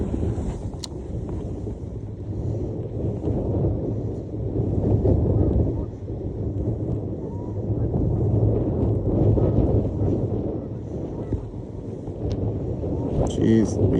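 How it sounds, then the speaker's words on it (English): Strong gusty wind buffets the microphone on a lake during kayak fishing for trout, a constant loud roaring rumble throughout with a voice talking now and then beneath it. "this wind is insane"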